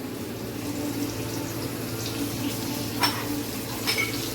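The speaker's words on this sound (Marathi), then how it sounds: "बाकीचं जे काय जुनं भांडी होती ती आता धुण्याचं काम चालू आहे. पाणी टाकलं आहे" Running water pours steadily while old utensils are washed, with occasional light clinks of metal dishes over the continuous splashing hiss.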